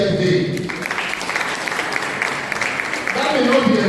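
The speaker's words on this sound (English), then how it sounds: "give yourself a round of applause for being here today" An audience at a guest lecture for the 2025 World Social Workers Day claps steadily for about four seconds, a dense, even patter of many hands with a voice carrying over it.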